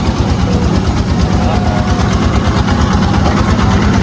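A boat's engine runs steadily throughout, a loud continuous low-pitched drone with a throbbing pulse, close by, with faint voices in the background.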